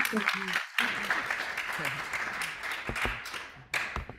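A lecture audience claps after an art talk, with scattered sharp claps and a few louder bursts mixed under laughter and nearby speech.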